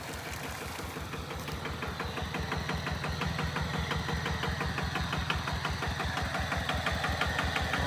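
A 10 hp engine drives a 3-inch shaft water pump, chugging steadily with a fast, even knocking rhythm and a low vibrating hum, close and continuous throughout with no talk.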